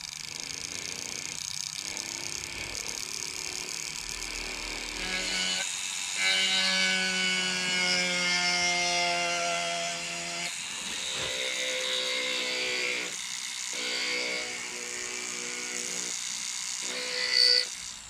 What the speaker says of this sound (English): I'm going to carve out these eye sockets here.